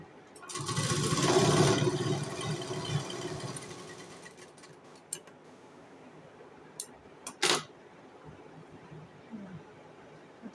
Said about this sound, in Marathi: आपण आता डबल शिलाई करून घेऊया.